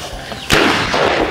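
A single sharp, loud boom from a spirit-fuelled can cannon cracks out after a moment of quiet, followed by a lingering rumbling tail.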